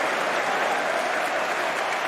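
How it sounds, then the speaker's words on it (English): A snooker crowd at the Masters 2024 quarter-finals applauds in a dense, even wash of clapping that fills the hall at full strength throughout. "The crowd responds."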